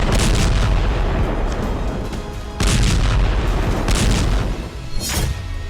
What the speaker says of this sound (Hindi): अब भीषण बमबारी की जा रही है